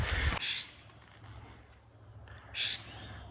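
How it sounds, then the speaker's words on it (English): Scrub jays calling in a forest, a couple of harsh raspy calls, one at the start and another near the end, with quiet woodland ambience between them. "Boy, the scrub jays are active."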